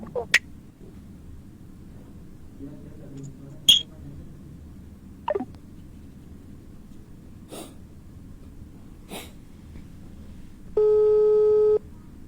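A telephone call tone sounds once as a steady beep lasting about a second near the end of a redialed call, after a stretch of faint background hiss and scattered clicks.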